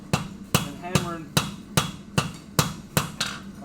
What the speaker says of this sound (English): and hammering